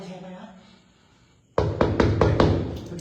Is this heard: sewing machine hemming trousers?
no